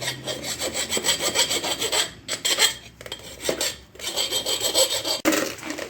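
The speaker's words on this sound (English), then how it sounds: "we're going to file the inside of this guy. We can file the outside of it too." Hand file working the burrs off a metal part of a stump grinder, a close, steady series of harsh rasping strokes in a regular back-and-forth rhythm, with brief pauses between passes.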